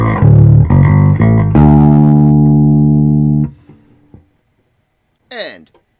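A bass guitar played through the direct output of a Trace Elliot Elf amp with the gain raised, giving a loud, thick run of plucked notes and one long sustained note that fades, followed by a brief quieter burst.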